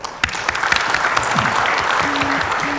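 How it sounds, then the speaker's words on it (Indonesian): Sustained audience applause fills a hall at a national epidemiology scientific meeting, a steady wash of many clapping hands, with a brief voice near the end. "Tepuk tangan buat beliau."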